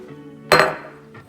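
An empty glass jar gives one sharp clink as it is picked up, a bright single knock that rings briefly and fades, close and fairly loud over quiet background.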